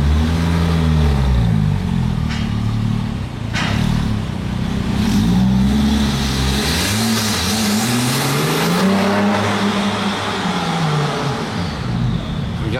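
A Porsche GT2 fitted with an Akrapovic exhaust accelerating and revving loudly nearby, the engine note rising and falling through the gears in repeated sweeps, with some tire noise.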